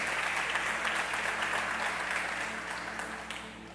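A church congregation at a Portuguese-language worship service applauds together in a full, continuous wash of clapping that tapers slightly toward the end, with no voices over it.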